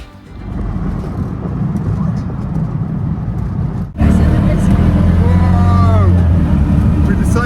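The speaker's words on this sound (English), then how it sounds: "Decided to get a tuk-tuk." A motorized tuk-tuk ride in Mexico, with steady engine drone and road rumble that jumps louder midway as the vehicle gets moving, under faint passenger talk.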